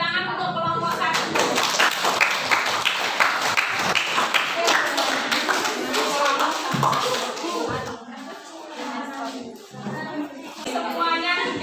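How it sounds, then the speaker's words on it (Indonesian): A classroom of students claps together for a group that has just presented, a dense burst of hand claps that thins and fades toward the end, with a little shuffling and murmur. "tepuk tangan untuk kelompok 1"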